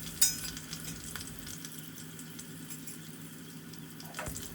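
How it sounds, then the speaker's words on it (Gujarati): Sesame seeds and asafoetida crackle in hot oil as a tempering for dudhi khaman dhokla, giving a steady close sizzle with a sharp spatter at the start and no talk. "તલને સરખા તેલમાં મિક્સ કરીને તેમાં 1/4 ટીસ્પૂન જેટલી હિંગ નાખવી"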